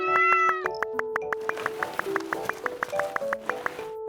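Cartoon cats meow in a quick run of short, bright, pitched calls, about a dozen in steady rhythm after an opening sustained chord of tones, clear and close with no talking.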